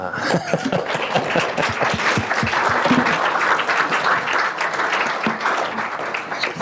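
Audience applause at the launch of a report on irregular African migrants to Europe, a dense steady round of clapping from a crowd lasting throughout, with some talk faintly underneath.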